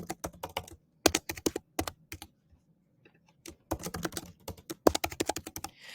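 Someone types a password on a computer keyboard: quick clusters of crisp key clicks close to the mic, with a short pause partway through.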